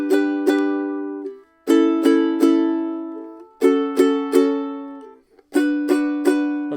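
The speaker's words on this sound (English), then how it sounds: "The third option is to play the first 3 notes of the sort of rhythm that happens for much of the song, going like this." A ukulele plays a repeated three-note strummed rhythm, four short phrases of three quick plucks each with ringing decay between, close and clear with no talking.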